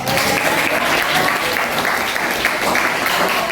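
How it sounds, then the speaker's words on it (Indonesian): A classroom of students clapping hands together during an icebreaker activity in an Indonesian teacher-training session; a short, dense burst of close, steady applause with a lively room feel. "Oke, tepuk tangan dulu."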